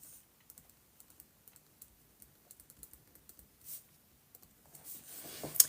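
Someone types a word on a computer keyboard, producing a run of quick, close, soft key taps with uneven rhythm in an otherwise quiet room, without talk.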